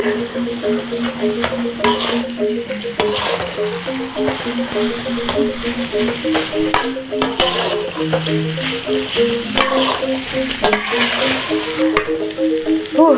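Sambal with smoked skipjack tuna being stirred and fried in a pan, with steady sizzling and repeated scraping stir strokes throughout, close and fairly loud, with music playing underneath.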